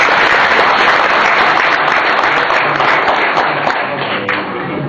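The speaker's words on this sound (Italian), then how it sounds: "Doppio applauso." A crowd gathered for the presentation of a civic candidate list for a mayoral race in Palazzolo claps loudly and continuously, a thick wash of many hands that eases slightly toward the end.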